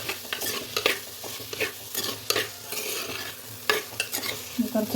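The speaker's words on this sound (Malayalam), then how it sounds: "കുറച്ച് അതിന് ഉപ്പ് ഇട്ട് കൊടുത്തിട്ട് വേണം സവാള ഒന്ന് വഴറ്റി എടുക്കാൻ വേണ്ടിയിട്ട്" Onions sautéing with salt in a pan, a steady sizzle broken by repeated scraping and clinking strokes of a spoon as they are stirred, close and fairly loud.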